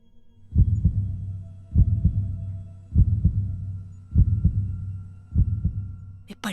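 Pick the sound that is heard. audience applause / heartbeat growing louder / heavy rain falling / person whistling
heartbeat growing louder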